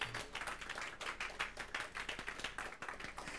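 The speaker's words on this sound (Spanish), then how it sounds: "Denle un aplauso al Señor en esta hora fuerte." Steady applause from many hands at a church service, a dense, even patter of clapping heard from some distance with no voices.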